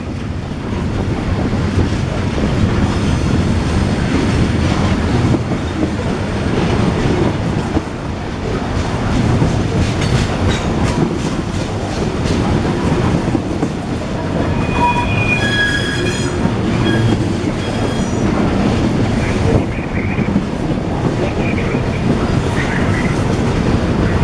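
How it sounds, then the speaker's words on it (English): NS and CSX freight trains rolling through Marion, Ohio, a loud continuous rumble of cars with clacking wheels and intermittent high squeals, close by and steady throughout. "Wow, 3 trains in one video."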